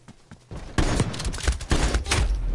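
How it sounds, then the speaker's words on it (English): Rapid bursts of gunfire fill a shooter video game match, dense overlapping shots and thuds crackling loud and close after a quieter start, with no talk over them. "I shot directly at this fucker and none of the bullets hit"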